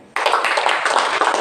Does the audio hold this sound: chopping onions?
no